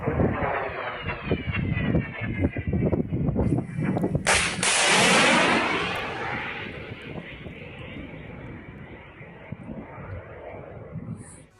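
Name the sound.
Russian missile strikes on Kyiv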